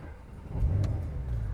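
A 2020 Porsche 911 Carrera 4 (992) with sports exhaust starts up with a deep, loud rumble that swells about halfway through and then settles into a steady, close idle, with no talking.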